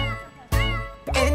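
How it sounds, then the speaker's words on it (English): A cartoon cat from a children's farm song gives three loud, close meows, each a short rising-falling cry with strong harmonics, the first starting the clip and the next two following at about half-second intervals. "There was a farmer who had a cat, and Bingo was her name-o"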